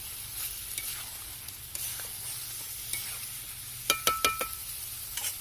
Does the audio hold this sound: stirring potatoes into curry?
yes